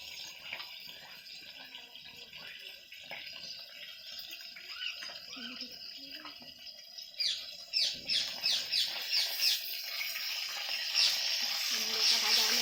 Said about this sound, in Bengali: আমাদের একটা মিঠু পাখি আছে, সে শুধু ডাকে শুধু ডাকে।